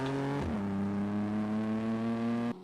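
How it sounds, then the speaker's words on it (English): A car engine revs through a loud exhaust, a steady droning tone that dips briefly and then holds before cutting off, with no talking. "It's got a great exhaust."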